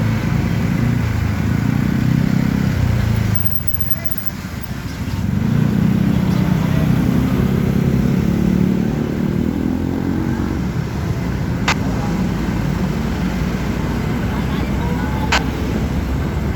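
A Yamaha motorcycle engine drones steadily at close range while riding through traffic in Cavite, Philippines, with a brief dip in revs, surrounding traffic noise, and a voice talking over it.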